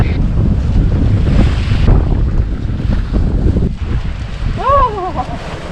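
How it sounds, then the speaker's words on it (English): Strong wind blasts across the microphone while sailing a yacht near Granger Bay, a loud constant rumble with water rushing beneath and a brief voice near the end. "This feels like a lot more than 21 knots of wind, eh?"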